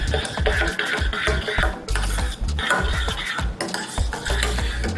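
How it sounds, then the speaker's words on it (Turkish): A spoon stirs risotto in a pot after butter, fresh pepper and salt have gone in, making a steady rhythm of close, scraping and clinking strokes against the pan, with no talking. "Tuzumu ilave ediyorum ve karıştırmaya devam ediyorum."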